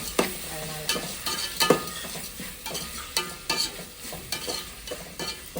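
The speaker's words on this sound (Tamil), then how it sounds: "கொஞ்ச நேரம் தக்காளி வதங்கட்டோம்பா" Tomatoes sautéing in oil in a pan for a country-style goat intestine and chicken curry cook-off, with soft sizzling under repeated stirring scrapes and clinks of a spoon at close range.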